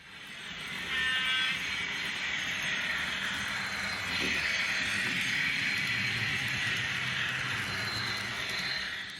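A model HST train fitted with a sound decoder runs on an N gauge layout, giving a steady, fairly loud Paxman Valenta engine drone with a hissing whine that holds level throughout and briefly swells near the middle.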